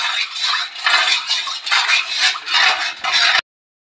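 A spoon stirs sugar into water in a metal pot while preparing rasgulla, giving a steady, close scraping and swishing in repeated strokes with no talking.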